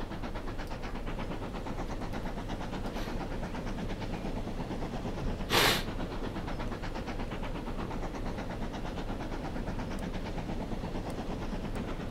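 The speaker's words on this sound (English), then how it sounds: "That's another Eastleigh train pulling in." A train from the game Transport Fever pulling into a station, its steady rolling rumble and rail noise continuous throughout, with one brief sharp hiss burst midway; no voices.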